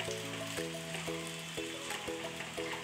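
Oats omelette batter frying in hot oil in a pan, giving a steady, close sizzling hiss throughout, with a tonal background running underneath.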